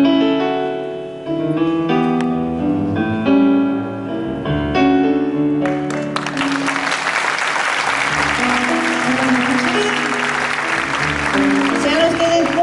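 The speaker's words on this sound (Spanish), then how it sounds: "Un aplauso para recibir a Mariel Córdoba." A theatre audience breaks into loud applause partway through, a dense, sustained wash of clapping that rises over the music already playing and holds to the end.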